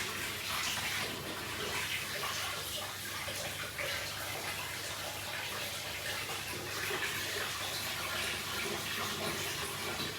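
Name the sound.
hot water tap running into a glass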